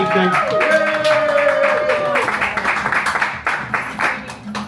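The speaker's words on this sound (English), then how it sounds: "let's give another round of applause for other fantastic acts this" At a Scottish heat of the Queerovision song contest, the audience claps for the acts on stage. A sustained tone and voice fade under the applause, which builds into a crowd of claps with some talk mixed in.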